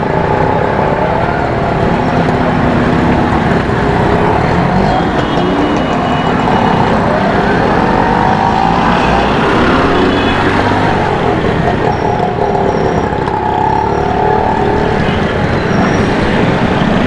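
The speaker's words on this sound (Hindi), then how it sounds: "इस ट्रैफिक में मोटरसाइकिल चलाना या गाड़ी चलाना बड़ा मुश्किल है।" Heavy city traffic in Karachi between Saddar and Lyari, a constant loud roar of cars, buses and motorcycles close by, with engines droning and passing over a dense street wash.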